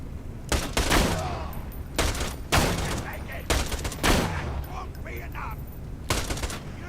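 Gunfire in Borderlands 2, including a shotgun, fired in repeated loud bursts of shots that come in clusters with short gaps, heavy and close, with faint game sounds between volleys.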